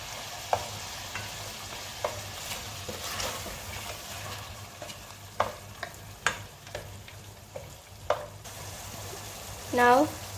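Chicken karahi with freshly added tomatoes sizzles steadily in a pan, with scattered clinks and scraping stir strokes over a constant low frying hiss.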